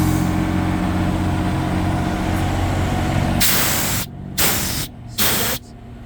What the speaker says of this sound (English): that's the air coming out because I don't have this valve closed